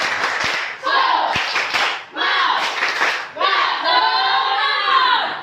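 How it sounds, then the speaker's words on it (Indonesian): A classroom of students performs a rhythmic spirit clap, sharp patterned bursts of clapping mixed with loud chanted voices in several phrases, separated by short pauses. "Oke, seluruhnya tepuk semangat."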